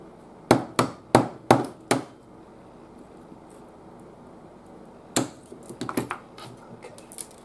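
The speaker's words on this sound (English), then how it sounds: "I think we're ready to hammer them out." Sharp hammer blows ring out during restoration of a Radiola 20 radio: five evenly spaced strikes, a long quiet gap, then a faster irregular cluster of lighter taps, close and loud.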